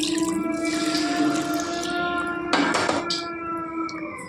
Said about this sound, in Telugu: కొద్దిగా వాటర్ కూడా వేసుకోవాలండి